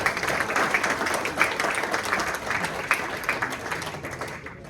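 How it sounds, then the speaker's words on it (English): A crowd at a breeders' awards evening breaks into sustained applause, dense clapping filling the room at a steady level with a few sharper claps standing out. "A round of applause for Philip, please."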